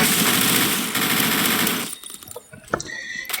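A Tavor assault rifle loaded with duplex ammo fires in Phantom Forces: a loud, dense burst of gunfire for about two seconds, then quieter scattered clicks and mechanical ticks.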